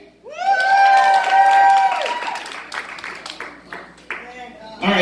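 A comedy show audience at a ladies' stand-up night cheers loudly, with high shouts rising over clapping, then the noise thins into scattered claps and voices before swelling again at the end.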